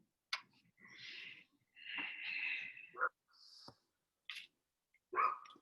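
A dog gives a series of short whines, snorts and yelps, close by and fairly loud, separated by brief pauses, with no one talking over it.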